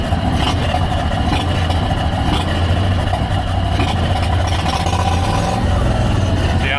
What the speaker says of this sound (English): Nice drive in the country and the V-twin Beetle that almost sounds like a V8.